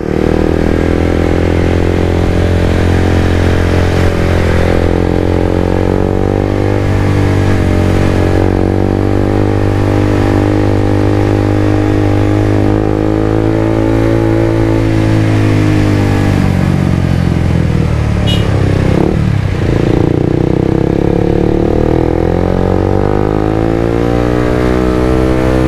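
Suzuki GSX-R150 motorcycle moving through heavy city traffic, a continuous close engine drone with gentle rises and falls in revs, surrounded by the hum of other vehicles, with a passing vehicle sweeping by near the end.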